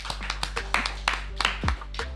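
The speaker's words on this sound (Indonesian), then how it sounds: "Tepuk tangan dulu semuanya" A small studio audience on a finance talk show claps in sparse, distinct hand claps, each sharp and close, scattered irregularly over a couple of seconds above a low steady hum.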